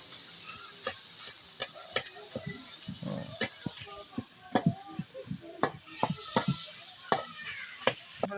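Fish roe bhuna cooking in a pan, a soft continuous sizzle broken by sharp scraping stir strokes at an irregular rhythm, close and fairly quiet.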